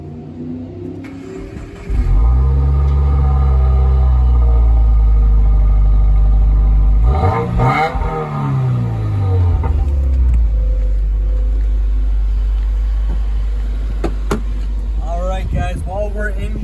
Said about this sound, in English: I'm going to start up the car. We're going to get that sound clip for the exhaust,